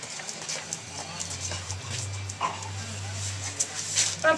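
A young male puppy gives soft whimpers and little yips amid low rumbling background noise, with a person coaxing it in between.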